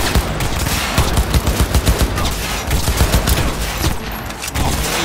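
Sustained rapid gunfire in Cyberpunk 2077, a loud, close, unbroken stream of shots pounding in a steady rhythm for several seconds.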